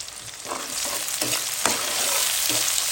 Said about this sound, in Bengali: ভাজা ভাজা হতে থাক।